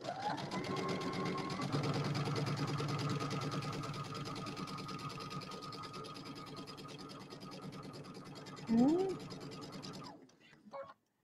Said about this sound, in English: I sew quite a bit on this machine.